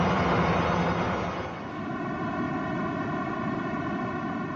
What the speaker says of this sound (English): Very powerful, but really hissy, white noise kind of sound.